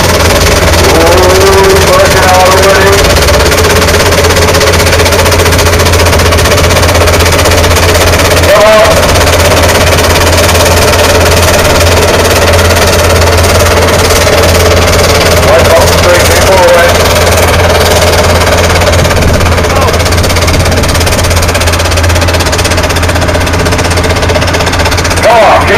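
A steam traction engine at the Somerset Steam Spectacular 2010 hauls a weighted sled, giving a loud, continuous, close engine rumble with a steady low throb that runs unbroken for the whole stretch.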